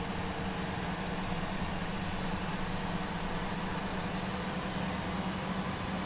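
Steady, dense roar of Boeing 737-800 jet engines during takeoff in a flight simulator game, a continuous broadband rush with a low hum, unchanging and loud, with no voices.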